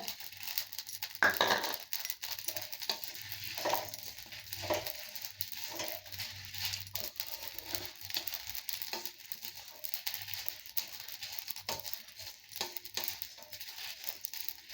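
Dried red chillies roast in a pan while rasam powder is being prepared, giving a steady, soft crackling sizzle with scraping stirs and light patter throughout, close and fairly quiet.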